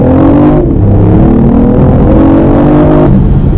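A 2015 BMW i8 hybrid sports car pulls away from a standstill, its engine note loud and close, rising steadily in pitch with no break.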